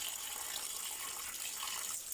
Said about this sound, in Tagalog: So, ito yung tubig na umagos dito.